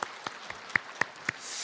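A church congregation, greeting one another during a Sunday service, gives a few scattered, separate claps that swell into a brief burst of fuller applause at the very end.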